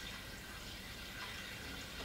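Water flowing into a new 1.5-litre home aquarium, a soft, steady trickle and gurgle like a small stream, faint and continuous with no voices.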